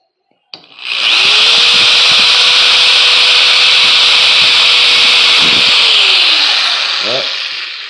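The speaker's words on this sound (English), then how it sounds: "Go ahead and drill this hole." A power drill whirs up sharply and bores steadily through wood with a loud, even grinding hiss, then winds down as the bit stops.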